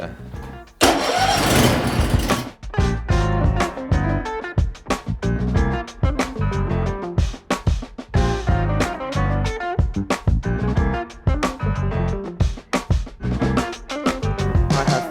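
Petrol grass cutter engine being started with the choke on: a loud pull-start burst, then a rapid, choppy sputtering run that rises and falls unevenly, close by.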